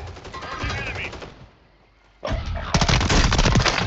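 Automatic gunfire in the shooter Call of Duty Warzone, with heavy rapid bursts up close, a short lull, then a loud sustained barrage of shots over rumbling battle noise, and a voice briefly calling out.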